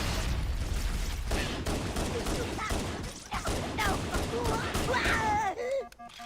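Halo 1 pistol fire against Grunts on Legendary difficulty, a rapid run of loud shots with chirpy alien squeals and impacts, dense combat noise throughout with a sharper burst near the end.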